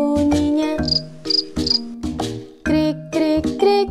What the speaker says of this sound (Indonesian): Krik krik krik suara jangkrik, jangkrik kecil nyaring bunyinya.